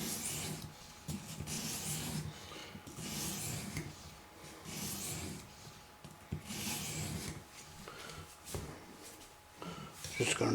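A knife blade is drawn across a 400 grit stone on an Apex Edge Pro sharpener, giving repeated rhythmic scraping strokes of about a second each with brief pauses, close and fairly soft.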